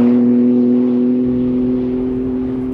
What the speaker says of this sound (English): you get a bit more noise in the Sport Plus mode, and that sounds pretty damn good to me